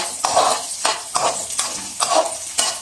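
Carrots frying in a pan for vegetable fried rice are stirred in regular strokes. Each sweep brings a short scrape and a burst of sizzle, about five in a steady rhythm, close and fairly loud.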